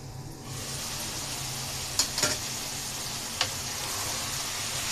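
Chicken and capsicum cook in a pan under a soft, steady sizzle, with a few sharp scrapes and clinks of a spoon stirring at intervals.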